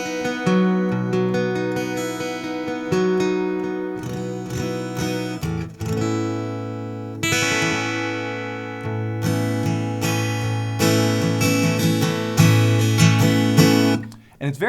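Acoustic guitar played through an AER acoustic amp (MM200 or Compact 60) with the high end rolled off, strummed and picked chords ringing steadily and fairly loud for about fifteen seconds, with no talking.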